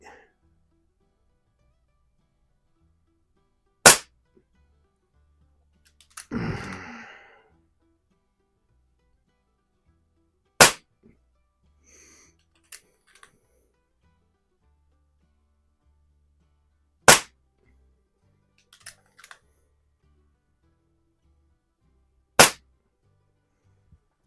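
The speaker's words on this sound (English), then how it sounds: "and then we'll do some plinking with the Donnie FL here" A .177 PCP air pistol fires during plinking: four sharp, loud single shots spaced several seconds apart, with brief handling and cocking noises between them.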